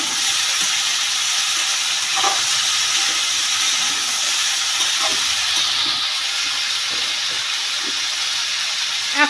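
Steady sizzle of cauliflower, potato and green peas frying in a kadai, with occasional soft scrapes and knocks of stirring over the constant hiss.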